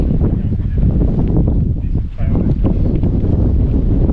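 Strong wind buffets the microphone near the top of a hill on Oahu, roaring steadily and loudly throughout with only a brief lull.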